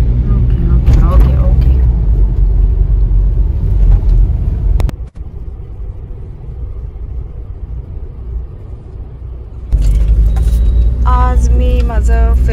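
Inside a car on the move, a steady low road rumble runs throughout, with people talking over it for much of the time.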